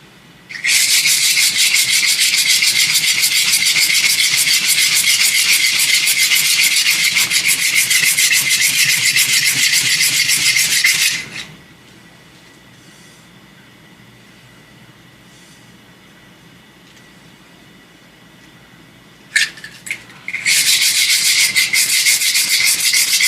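A wooden wand is sanded smooth with a loud, close, harsh rubbing hiss that runs for about ten seconds, stops for a quiet stretch, then returns after a short burst.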